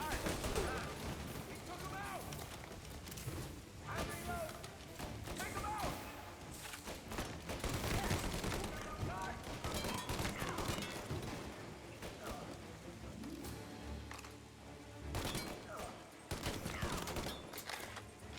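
Rapid bursts of gunfire in a Prohibition-era shootout in the video game Mafia Definitive Edition, with shots and thuds overlapping densely throughout under in-game voices and music.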